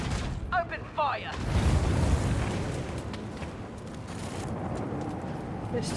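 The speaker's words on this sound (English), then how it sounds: "Macro cannons, open fire." Macro cannons open fire in the space combat of the video game Warhammer 40k Rogue Trader, a long rolling boom with a heavy, sustained low rumble following a brief burst of game chatter.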